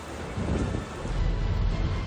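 Steady roaring wind with a dense wash of broadband noise from heavy rain during bad weather in Quezon City, Metro Manila, buffeting the microphone and growing slightly stronger toward the end.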